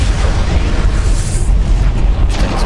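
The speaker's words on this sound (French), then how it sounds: "Putain, ils ont tiré un coup de canon géant." A giant cannon firing in a Warhammer 40K video game, a loud sustained roaring boom with rumbling low end and a second burst of blast noise near the end, with no voices.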